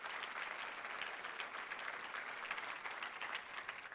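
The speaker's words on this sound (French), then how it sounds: "je pense que ça mérite une main d'encouragement," Steady applause from a sizable crowd, a dense continuous wash of clapping that holds at an even level throughout.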